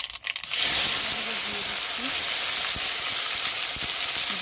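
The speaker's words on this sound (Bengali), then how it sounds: "এবার কালো জিরে ফোড়ন দিয়ে" Black cumin seeds hit hot oil in a pan for tempering after fish has been fried, bursting into a loud, steady close-up sizzle and hiss with faint crackles.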